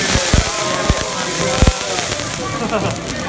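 Fire crackles and flares on a hibachi grill at a restaurant birthday celebration, with sharp pops and a steady rushing roar beneath nearby chatter.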